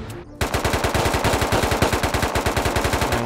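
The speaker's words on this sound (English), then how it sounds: "We're getting shot at from somewhere." Automatic gunfire in the survival shooter Unturned, a rapid, even stream of loud shots firing continuously for about three seconds, close and dominant.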